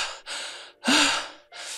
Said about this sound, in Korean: 커다란 숨소리가 레스토랑에 울려 퍼진 뒤 거친 숨소리가 이어졌다.